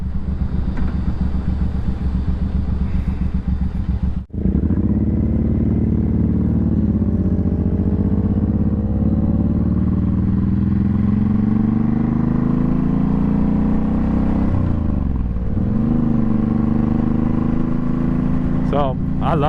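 Suzuki Boulevard M109R motorcycle engine and exhaust roaring steadily on a test ride, with a brief dip then rising revs as it accelerates, loud and close throughout.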